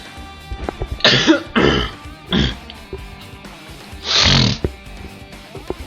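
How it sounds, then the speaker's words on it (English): Someone clears their throat repeatedly, several rough, raspy bursts close to the microphone, the last one longest. "Let me just clear my throat a little bit more."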